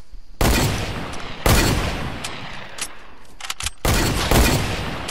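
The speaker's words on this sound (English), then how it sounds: "they're shooting at us" Video game shootout gunfire: loud bursts of automatic fire come in several long volleys with brief gaps between, close and heavy, with no talk over them.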